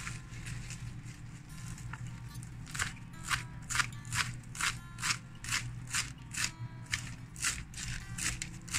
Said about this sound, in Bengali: এখন আমি শাকটা কেটে নিব।